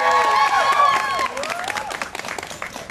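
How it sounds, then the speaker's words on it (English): Crowd applause thanking a police escort at a gathering, clapping and light cheering running beneath a sustained tonal sound that fades, then continuing steadily on its own. "give them a round of applause"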